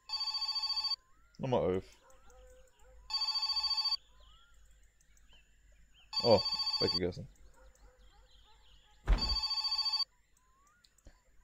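Telephone ringing in the game My Summer Car, four bursts of a bright electronic bell-like ring with pauses between them, loud and close, while someone talks in the gaps and over some rings.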